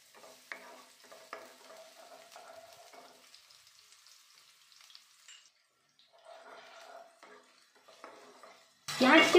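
Onions hit hot oil for veg fried rice, a faint sizzle with light clinks and stirring that fades to near quiet, then resumes before a sudden loud burst at the end.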